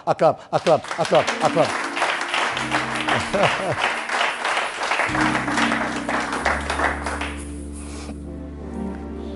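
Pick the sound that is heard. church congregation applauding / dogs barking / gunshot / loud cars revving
church congregation applauding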